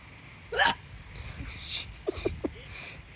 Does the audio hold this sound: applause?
no